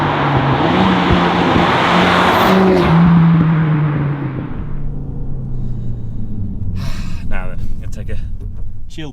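A 410PS Revo Stage 2 tuned Mk4 Ford Focus ST drives fast, its engine loud and revving before dropping away to a low rumble, with someone talking over it.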